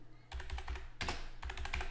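Rapid keystrokes on a computer keyboard as a phone number is entered, a quick run of close, crisp clicks in two short bursts.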